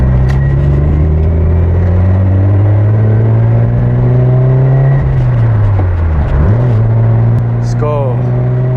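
A Subaru BRZ sports car drives on a public road at night, its engine rumbling loudly from inside the cabin with revs rising and falling through gear changes, one sharp dip and recovery partway through.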